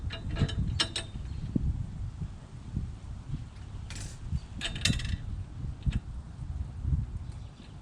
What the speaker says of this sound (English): I could quickly tighten it down with the wing nut